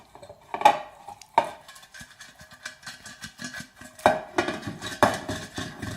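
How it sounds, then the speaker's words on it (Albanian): Cake tin being greased with cooking oil using a pastry brush, a series of close metallic taps and scrapes with irregular rhythm, sharper knocks at a few points and quiet brushing between. "E lyejmë anë mbanë me ndihmën e furçës."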